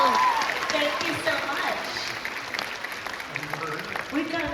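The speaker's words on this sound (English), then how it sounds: "A little round of applause." An audience at a Comic Con Q&A session for Cobra Kai claps in a steady patter that runs the whole time, with people speaking over it.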